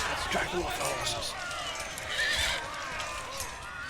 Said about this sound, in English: Let's drag them off the horses.